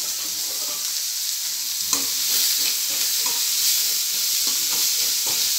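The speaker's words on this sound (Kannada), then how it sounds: "ಉಳ್ಳಾಗಡ್ಡಿ ಸ್ವಲ್ಪ ಮೆತ್ತಗೋಮಟ ಹುರ್ಕೋಬೇಕು" Onions, garlic and curry leaves frying in a pan for a capsicum curry, giving a steady loud sizzle with occasional soft stirring scrapes and no talking.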